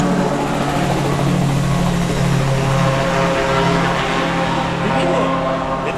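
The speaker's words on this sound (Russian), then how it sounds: "Такой водный вертолет какой-то." An open-top amphibious helicopter with float skids passes overhead near a seaside fortress in Marmaris, Turkey, its loud engine and rotor drone steady and continuous throughout.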